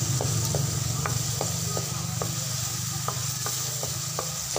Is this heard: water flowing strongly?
no